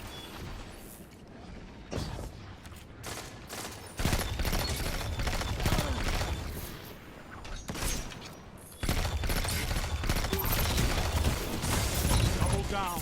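Rapid bursts from the Outbreak Prime exotic pulse rifle in a shooter video game, firing in dense repeated volleys over busy game effects while someone talks over the action.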